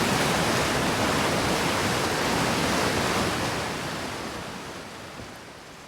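A video game waterfall roars as a broad, constant rushing wash of water that fades gradually toward the end, with no talk over it.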